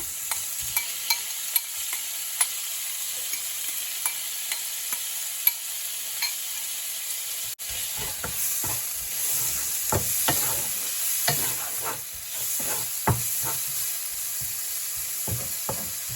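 Prawns stir-frying in a pan on a stove with bulgur, mushrooms and jerk seasoning nearby, giving a steady close sizzle broken by frequent clicks and scrapes of stirring.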